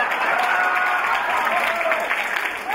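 Audience applause at a festival in Moscow: close, continuous clapping from a crowd, sustained throughout with faint voices mixed underneath.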